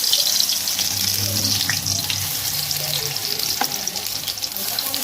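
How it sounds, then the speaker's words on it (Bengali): Bottle gourd leaf and prawn fritters frying in hot white oil in a kadai, a steady close hiss of bubbling oil with low hum and a few soft clinks underneath, no talking. "তেলটা গরম হয়ে গেছে এবার আমি একটা একটা ভাজতে বসে দিই"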